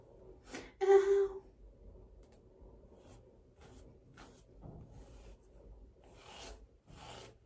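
A brush drags through thick, coarse hair in close, raspy strokes: one loud scratchy pass near the start, then softer intermittent rubbing strokes in a quiet room.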